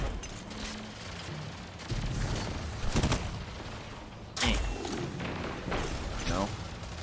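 Weapon fire from a Destiny 2 Crucible match cracks out in a few sharp shots and booming bursts over a continuous game-noise bed, with a voice talking partly underneath.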